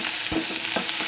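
A large onion and five slit green chilies frying in oil for a Bengali fish curry, a loud, close hissing sizzle with two quick stirring scrapes.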